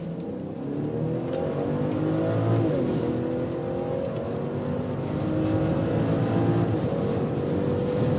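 Audi A6 55 TFSI S-Line accelerating hard in sport mode with sport shifting from about 40 km/h, a steady loud engine drone rising in pitch, dropping briefly at a gear change near the middle, then climbing again under constant road noise.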